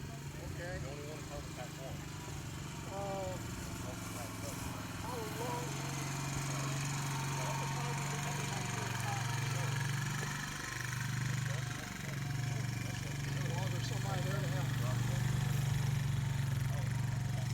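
An ATV with a sprayer drives a timed 143-foot calibration course at walking pace, its engine a steady mid-pitched drone from start to end, with faint talk over it.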